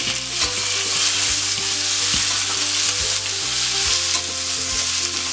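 Cumin, onions and chopped tomatoes fry in a pan for a coconut chutney, a steady loud sizzle with repeated scraping stirs of a spoon against the pan throughout, no voices.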